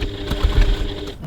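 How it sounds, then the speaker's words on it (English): A sewing machine runs in a quick burst while back-tacking the top of a handbag seam, a close, steady whirring stitch rattle with no talking. "I'm just going to back tack at each top here several times just to secure it."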